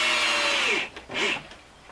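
A power drill drives stainless steel screws into the new transom of a cedar strip boat in two short whirring bursts, the first longer than the second, heard up close.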